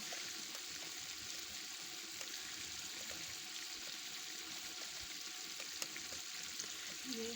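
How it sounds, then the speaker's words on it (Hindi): A pot of mutton and potato shorba simmers at a boil, a soft continuous bubbling and faint hiss heard close, steady and quiet with no talking. "अच्छी तरह से इसे उबाल आ रहे हैं।"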